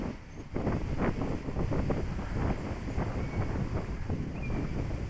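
Strong wind gusting across the microphone at an RC glider flying field, a loud continuous buffeting roar with irregular surges, no talk.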